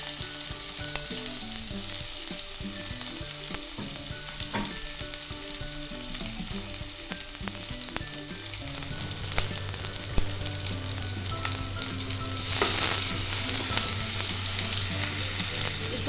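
Chopped onions sizzle and fry steadily in a hot pan for a Hindi-style mutton pulao, a continuous close hiss with occasional stirring scrapes and no talking.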